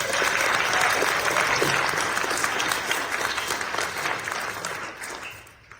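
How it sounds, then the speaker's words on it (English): An audience applauds at a Carolinas Kiwanis district gathering, a dense, loud wash of clapping that stays steady and then gradually thins and fades toward the end. "So round of applause for our..."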